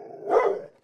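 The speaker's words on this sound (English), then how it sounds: "Damn stupid dog." A dog gives a single short, loud bark close by, with quiet background before and after.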